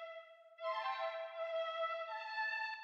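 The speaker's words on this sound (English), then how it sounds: "So next, I use this flute sound" A sampled flute, rhythm changed and given light spring reverb in FL Studio, plays a soft sustained tone that swells into a fuller, brighter chord-like layer, quiet and alone.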